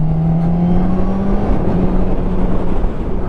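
A Honda CB1000R motorcycle engine droning at steady revs while riding, a loud, close, continuous hum with a slight pitch waver and wind noise underneath.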